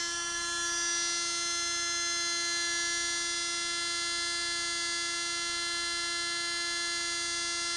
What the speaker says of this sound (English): Yeah, it is a blower.